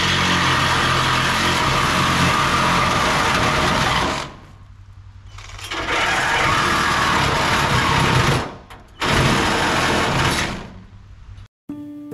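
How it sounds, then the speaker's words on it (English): A reciprocating saw with a metal-cutting blade saws through the steel cage of an IBC tote, buzzing loudly and steadily in three long cutting runs separated by short pauses. "So let's go over here and saw this cage and see if we can make quick work of it."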